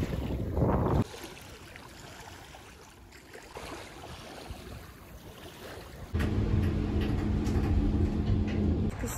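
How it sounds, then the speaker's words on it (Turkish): Wind buffets a microphone outdoors on a seaside holiday in Kuşadası, Turkey, giving loud rumbling gusts that rise and fall, easing off midway before a strong, steady blast returns. "Rüzgar var, o yüzden konuşmuyorum."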